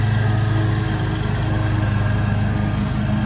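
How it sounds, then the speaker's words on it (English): A string trimmer runs steadily at close range during lawn work, a constant buzzing engine drone with no breaks or pauses. "Okay, I'm gonna go string trim."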